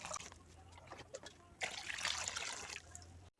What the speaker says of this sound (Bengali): তো এখন এতে আমি দিয়ে দেব জল